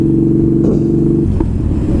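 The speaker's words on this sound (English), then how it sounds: "The motor's perfect, it just runs so nice." A motorcycle engine runs and revs close by, a loud, dense rumble that holds steady, then drops in pitch partway through as the revs fall back to a lower idle.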